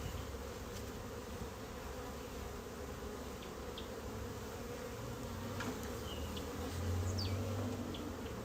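Honey bees buzz steadily around an opened hive during a winter inspection, a dense, continuous drone close by with individual bees whining past now and then, no voices.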